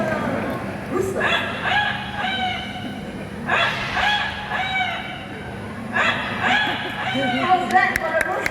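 An Amazon parrot mimics a rooster's crow, letting out three drawn-out, harmonic cock-a-doodle-doo calls spaced evenly apart over steady room noise, with a person talking around them.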